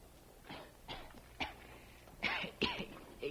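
Several rough, raspy coughs in a row, close by, with short pauses between them and no talking.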